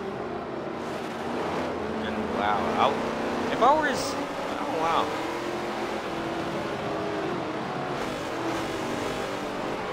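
NASCAR race cars roar around Sonoma in Forza Motorsport 7 as a constant, dense engine drone with tire squeals on top, while a commentator talks excitedly over it.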